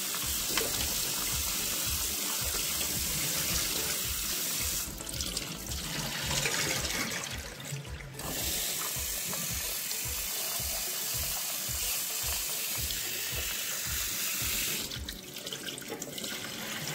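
Broccoli and spinach leaves are rinsed under a running kitchen tap, a steady close hiss of water into a sink with shifting splashes as the vegetables are turned, with no talking.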